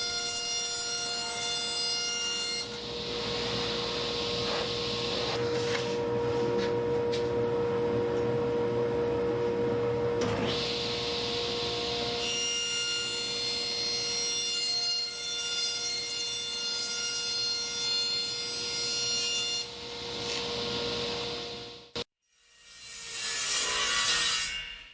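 A table saw with its blade set too low slowly cuts through a lighting diffuser panel. It makes a long, loud, steady whine with a tonal hum, drops out briefly near the end, then swells back.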